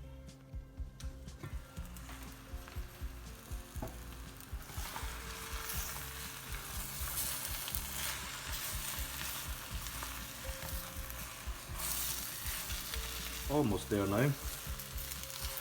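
Spinach for an Indian cottage pie with sag aloo topping wilts in a hot pan, giving a soft, continuous sizzle with occasional stirring scrapes close by; a brief spoken remark is heard near the start.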